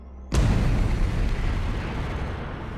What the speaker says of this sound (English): What Baade was referring to was an explosion of simply cosmic scale.